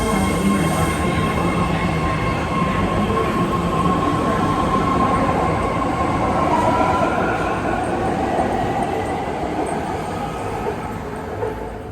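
A BART train rumbling at Oakland Coliseum station, a loud continuous roar of rolling wheels and motor with a faint high squeal riding on top, steady throughout and easing slightly toward the end.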